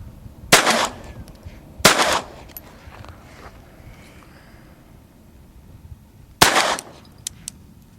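Walther P22 pistol fired at a bottle outdoors, three loud sharp gunshots with distinct gaps between them, two close together near the start and a third several seconds later, with quiet background between.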